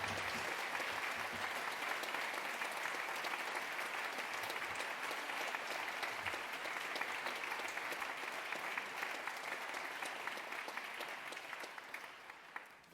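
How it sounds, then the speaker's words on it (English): A graduation ceremony audience at the Liverpool School of Tropical Medicine gives a long, steady round of applause, dense continuous clapping from a large hall that thins slightly toward the end. "give a huge round of applause to thank our family, friends, LSTM staff,"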